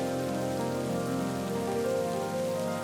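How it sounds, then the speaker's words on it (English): Steady rain falls on surfaces nearby, a continuous hiss and patter blended with a sustained musical drone, with no talking. "It's raining."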